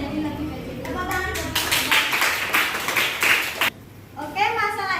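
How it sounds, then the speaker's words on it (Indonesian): Participants at a teacher coding and AI training session clap together in a short burst of rhythmic hand claps, fairly close and moderately loud, with voices talking just before and after. "Tepuk tangan."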